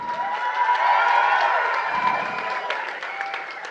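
Audience at a Chennai speech event applauds and cheers, loud sustained clapping mixed with whoops and shouts that swell early, then ease slightly while staying full.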